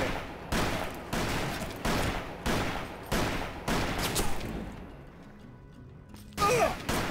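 Gunfire in the western video game Call of Juarez: Bound in Blood, a series of heavy, evenly spaced booming shots that fade toward a quieter stretch, then one last sharp burst near the end.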